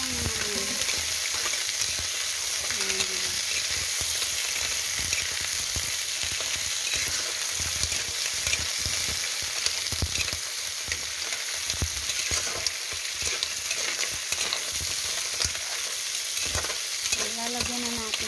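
Mussels sizzling in a hot pan, a loud, continuous frying hiss with occasional faint clinks and stirring sounds, close-up and without talk.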